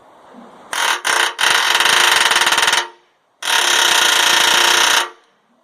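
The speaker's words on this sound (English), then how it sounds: "Once we're through the sleeve, handy dandy air chisel." Pneumatic air chisel hammering through a steel leaf spring bushing sleeve, loud and close in two sustained bursts, the first stuttering with brief stops before running steadily, then a pause and a second long continuous burst.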